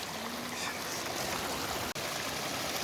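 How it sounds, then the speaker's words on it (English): Clear mountain rivulets flowing along the ascent to Jahaz Banda in Kumrat valley, a steady close rushing and trickling of water with a brief dropout near the end. "you will see these rivulets of crystal clear water making a very fine and soothing sound"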